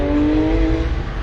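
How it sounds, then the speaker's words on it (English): Race cars rumble slowly toward the track grid at Hallett, a steady, loud engine drone with one clear tonal hum, close and with no talk. "we've got some more cars starting to make their way to the grid"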